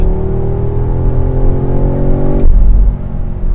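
A 2021 Audi S3 accelerates hard, its engine note climbing steadily before a sudden gear shift drops the pitch, then the loud close-up roar builds again with no talk.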